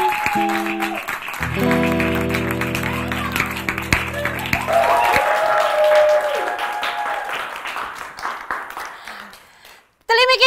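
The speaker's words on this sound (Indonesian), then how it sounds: "Terima kecil buat tepuk tangannya ya." Studio audience applause on an Indonesian talk show, a sustained burst of clapping blended with music and voices, fading out near the end before a brief loud return.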